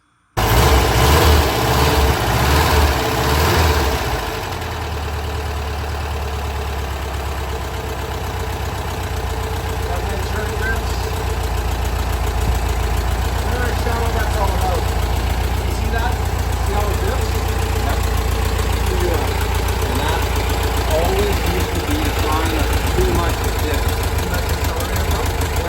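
A 1974 VW Westfalia bus engine runs, roaring loudly at first and then settling into a steady rhythmic idle close by for the rest of the clip, with voices talking over it.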